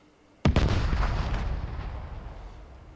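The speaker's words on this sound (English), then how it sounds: "That was a grenade." A grenade detonates in the video game Vigor, one sudden loud blast followed by a rumbling, crackling tail that fades slowly over a few seconds, with no talking.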